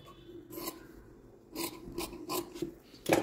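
Scissors cut a cloth strip about an inch wide for a deer-design quilt made from fabric scraps, giving several short, quiet rasping snips spaced irregularly, with a sharper one at the end and no talking.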